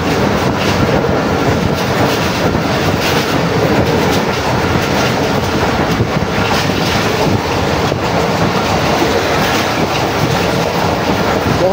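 The Allama Iqbal Express passes through Khanpur railway station at speed, with a steady, loud rumble and rhythmic clatter of wheels on track, continuous throughout.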